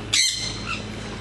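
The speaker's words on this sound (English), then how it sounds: "So that's the southern Boobook owl" A single harsh squawking call from a southern boobook owl, close and fairly loud, a short burst followed by a fainter trailing note against quiet background.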